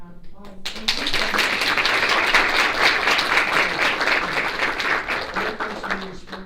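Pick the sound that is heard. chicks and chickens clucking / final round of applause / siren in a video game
final round of applause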